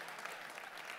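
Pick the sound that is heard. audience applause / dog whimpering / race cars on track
audience applause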